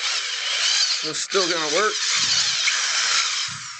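A power drill bores a guide hole into the bottom of a wooden platter on a woodturning lathe, whining steadily and close by for the whole stretch, while someone speaks briefly over it.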